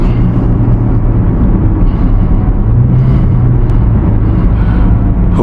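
A 2025 Corvette Z06 on the road with its engine giving a loud, steady low rumble from inside the cabin, mixed with road and tire noise, and no one talking.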